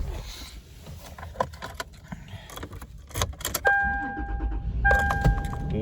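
Inside a 2004 Toyota 4Runner SR5 4x4, keys jangle and shuffle, a warning chime tones, then the engine turns over and settles into a low, close rumble.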